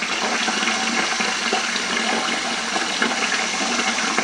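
Tap water runs steadily into a wine-making container through a water softener, a continuous close rushing splash with no voices.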